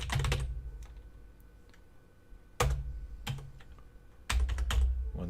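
Bursts of quick clicking keystrokes on a computer keyboard come in three clusters separated by short pauses, fairly close and moderately quiet.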